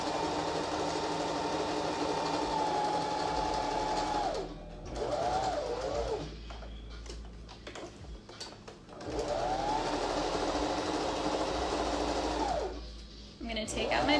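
A sewing machine runs in steady bursts as it stitches a fabric face mask seam with a very small seam allowance. The seam is pivoted and pins are pulled out along the way. A brief pause separates two long, loud runs of stitching.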